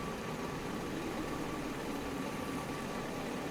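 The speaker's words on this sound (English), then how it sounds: "as we start the engine, it plays the start waveform, but it almost immediately cross-faded into the engine loop waveform" A car engine in an Unreal Engine 4 desert driving game settles into a looping hum, a quiet, even drone that holds steady throughout.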